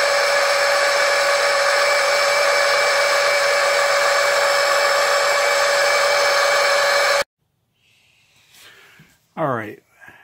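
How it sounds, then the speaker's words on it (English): A small oil pump drones in a steady, loud, tonal whine as it draws oil from a Mercury inboard motor, then cuts off abruptly, leaving faint clicks and a brief squeaky burst. "I can't say this pump is exactly the fastest way of getting that oil out"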